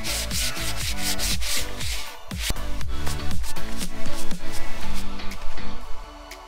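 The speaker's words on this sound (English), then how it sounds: "The trim still needs sanding before I can put lacquer on it." Wooden door trim in a 100-year-old house in Sweden is sanded by hand with steady, rhythmic rasping strokes that speed up and grow louder toward the end, heard close and alone.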